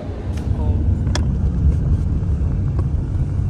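A car drives along a Dubai road at speed, a steady low road and engine rumble filling the cabin, with a few brief sharper noises and a voice talking over it.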